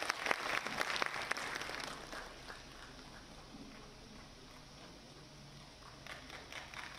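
Faint audience clapping at a cooperative week celebration, strongest in the first two seconds, then dying down to a quiet murmur before a few claps pick up again at the end.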